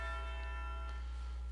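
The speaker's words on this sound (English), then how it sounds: "I hear bells. Those are funeral chimes." Funeral bells chime in the Wild Arms Alter Code F video game, a quiet, steady, sustained ringing with layered bell tones throughout.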